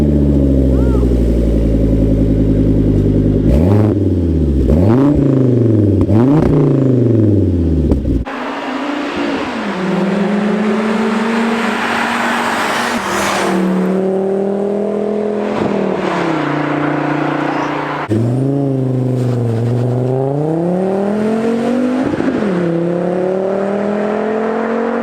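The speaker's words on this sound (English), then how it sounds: "It has a 5-cylinder, inline 5-cylinder up front, transversely mounted, all-wheel drive, and it just sounds epic." The inline five-cylinder engine of a transversely mounted, all-wheel-drive Volvo V70R is revved repeatedly up close, swelling and falling loudly over a steady, continuous rumble.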